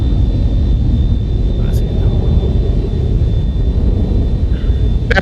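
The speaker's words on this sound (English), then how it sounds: "I believe he's already on his takeoff roll" An airplane on its takeoff roll at an AirVenture Oshkosh airshow, a steady low rumble of engine noise heard from a distance, continuous and fairly loud, with a commentator talking over it.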